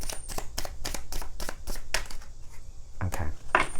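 Tarot cards being shuffled by hand in a series of quick, crisp riffling bursts at close range, with short pauses between strokes and a final flurry near the end.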